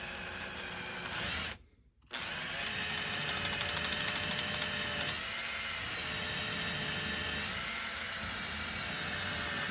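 A drill bores holes into an antler handle, a steady high-pitched whine close by that cuts out briefly near the start, then runs on continuously and evenly.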